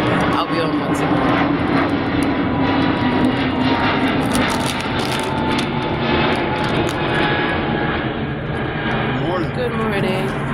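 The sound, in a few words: airplane flying overhead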